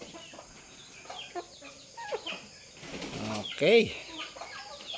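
Chickens scrabble and flap their wings while pecking at scattered feed, with soft clucks and one louder squawk, all close by. Someone speaks a single brief word.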